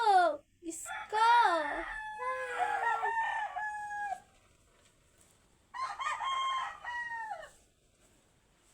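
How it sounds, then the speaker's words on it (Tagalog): A rooster crows twice, loud and near, with long wavering calls separated by a short pause, over a quiet background. "Huwag nyo lang pansinin yung tilaok ng manok kasi ang ingay"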